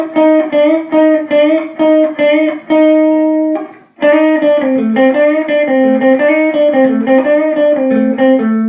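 Electric guitar played through an amp, its sustained, slightly distorted notes bent up and settling on a target pitch. A run of plucked notes stops briefly, then a second phrase of bends rings out loud and alone.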